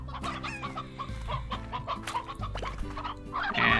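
Chickens in the video game Slime Rancher cluck repeatedly in quick, uneven bursts, close and clear over a low musical drone.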